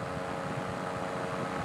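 A small aircraft flies over troglodyte cave dwellings in the Loire region, its engine a steady, fairly faint distant drone with no voices.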